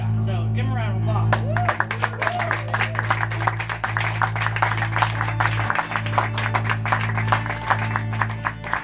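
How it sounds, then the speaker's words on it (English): A concert audience applauds for a folk band, scattered and overlapping claps building after a brief spoken moment and continuing steadily under a low hum, with some speech mixed in. "So give them a round of applause."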